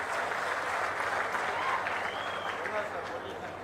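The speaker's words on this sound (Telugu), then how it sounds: "బాగా చేసిన దానికి మాత్రం చప్పట్లు కొట్టి అభినందించండి" Audience at a public meeting with Chief Minister Chandrababu in Kadapa applauding, a dense, steady burst of many hands clapping that fades toward the end.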